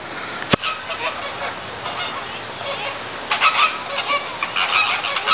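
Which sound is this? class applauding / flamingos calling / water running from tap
flamingos calling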